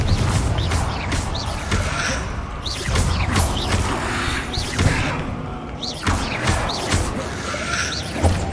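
Confringo spell blasts in the Hogwarts Legacy video game, loud repeated crashing bursts and whooshes over a constant busy game soundscape, several impacts spread across the stretch.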